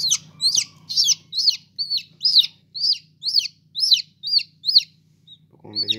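A newly hatched Australorp chick peeps in a steady series of about a dozen high, sharp, downward-sliding chirps, close and clear over a faint low hum, ending with a short rustle.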